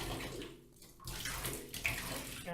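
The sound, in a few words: bubble bath poured into filling bathtub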